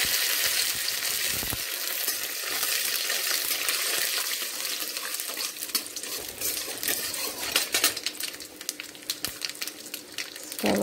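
Chana dal and dried red chillies crackle and sizzle in hot oil in a pan for an instant paniyaram, a steady dense frying hiss close up with occasional stirring clinks, and no voices.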